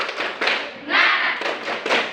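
A group of students claps together in a dense, rhythmic pattern, hands pattering loudly and continuously with a few stronger accented beats.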